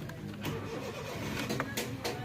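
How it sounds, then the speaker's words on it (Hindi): A 2005 Honda City with a fault in its dash lights and wiring cranks and fires up close by, a rough steady engine rumble with a few sharp clicks and no talking. "गाड़ी जो है ना स्टार्ट हो चुकी है।"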